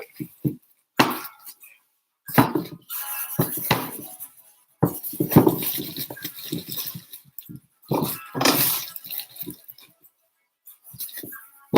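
Cauliflower and potatoes being chopped in a home kitchen: irregular runs of close, fairly loud chopping knocks and utensil clatter, separated by short pauses.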